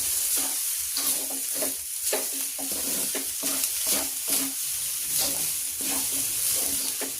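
Fried rice with dried shrimp is stir-fried in a pan, giving a steady close sizzle broken by repeated scraping spatula strokes throughout, with no talk.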